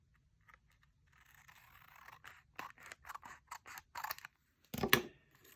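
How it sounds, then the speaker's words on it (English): Scissors snipping a thin sliver off a paper craft piece for a journal, a quiet run of close, crisp cuts ending in one sharper snip. "I can either trim that off a little bit more, or I can ink it. I think I'll just trim it off a little bit."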